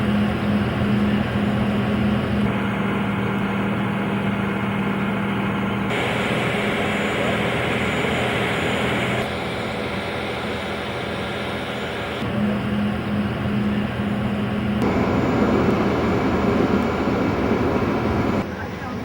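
A fire brigade speedboat passes on the River Seine in Paris, its engine a loud, steady roar that shifts in tone as it goes by, heard from a boat on the water under a continuous rumble.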